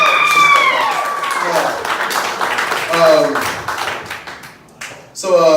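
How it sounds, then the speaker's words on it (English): An audience at a stand-up comedy show at The Hideout in Parkersburg claps and whoops in a lively burst, with voices calling out over the clapping before it trails off. "Applause break."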